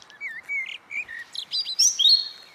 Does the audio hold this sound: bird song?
yes